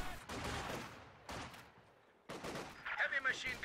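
Machine gun fire in a Company of Heroes-style real-time strategy match sounds as several short bursts of rapid shots, moderately loud and mixed with other battle noise.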